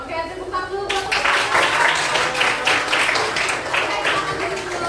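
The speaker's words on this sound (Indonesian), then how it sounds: "Oke, tepuk tangan dulu buat" A classroom of students bursts into clapping after a moment of a voice speaking, the hand claps swelling into a busy, fairly loud patter that carries on steadily to the end.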